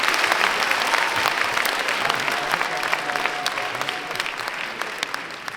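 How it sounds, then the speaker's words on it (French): Theatre audience applauding at the grand final of an inter-school eloquence contest, a dense, steady wash of clapping from a full house that carries on evenly and tapers slightly toward the end. "Les applaudir tous très bien fort."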